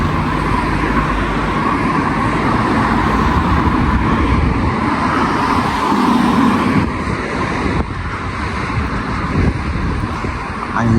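Dense road traffic with many cars, a loud continuous rumbling wash of engines and tyres close by, swelling and easing slightly without pause.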